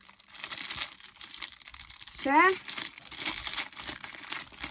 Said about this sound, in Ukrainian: Пакетик складено